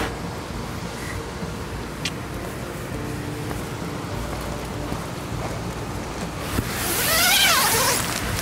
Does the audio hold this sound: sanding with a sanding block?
no